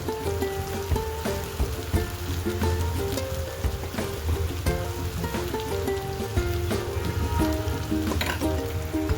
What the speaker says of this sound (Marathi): मित्रांनो मसाला व्यवस्थित फ्राय झाला आहे